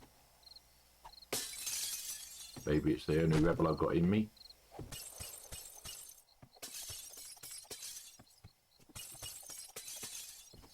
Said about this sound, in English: you can go around smashing glass. There's a certain satisfaction of glass breaking